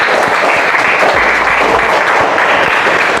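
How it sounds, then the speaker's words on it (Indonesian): Dense, steady applause fills the room as a school class claps for one student group during a lesson on addictive substances, with no pause from start to end. "Tepuk tangan dulu buat kelompok 3."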